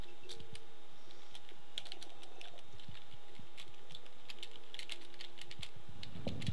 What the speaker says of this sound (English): I can hear you typing, Josh.